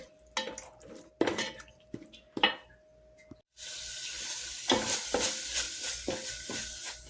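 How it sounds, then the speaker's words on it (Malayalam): Chicken and water get stirred in a cooking pot, first with a few sharp scraping clinks, then a steady rushing, bubbling wash of liquid noise close by. "എന്നിട്ടൊന്ന് ഇളക്കി കൊടുക്കണേ നന്നായിട്ട്"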